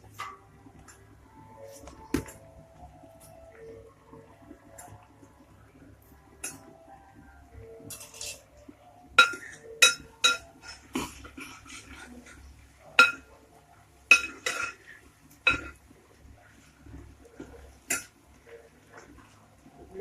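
A knife chops ingredients for a chicken curry in quiet, irregular sharp taps and clicks, with a few louder strikes and faint utensil clinks between them.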